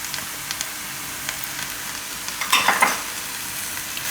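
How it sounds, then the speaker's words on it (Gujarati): Fenugreek leaves and pigeon peas fry in a pan with a steady soft sizzle, and a short burst of scraping stirring rises near the end. "અને થોડીક વાર પાકવા દેવું મેથીને 2 મિનિટ માટે"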